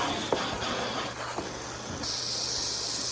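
Water hisses steadily from a tap while a skinned Ginger Broiler meat chicken carcass is rinsed out, with a few faint knocks early on and the spray growing louder and brighter partway through.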